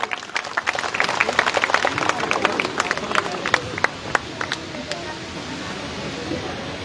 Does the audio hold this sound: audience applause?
yes